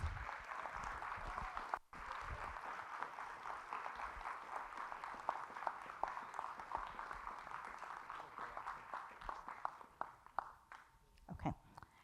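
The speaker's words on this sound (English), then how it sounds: "let's give him a round of applause" Quiet, sustained applause rises for the Chief Judge at the Black History Judicial Celebration 2025, a hall full of soft overlapping claps that thins out toward the end with a few louder, scattered claps.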